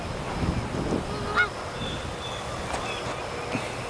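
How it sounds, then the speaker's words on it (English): Geese honk a few times at a distance in Coppell, Texas, the calls scattered and moderately loud over outdoor background noise. "These geese are totally chasing the ducks away."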